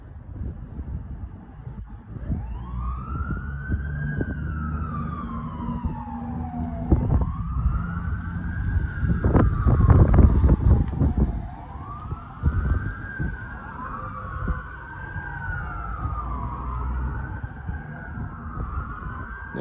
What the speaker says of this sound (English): Engine 65, tanker 65 are gone. Heading to a structure fire